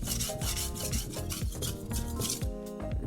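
A knife sharpened on a Japanese whetstone, heard up close as rapid, steady back-and-forth grinding strokes that scrape without a break.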